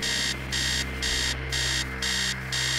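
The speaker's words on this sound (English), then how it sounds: "Upstairs, the sound of an alarm clock blaring." An alarm clock blares in the horror game Stories Untold, a loud harsh electronic buzz pulsing in even on-off bursts about twice a second, with no talking.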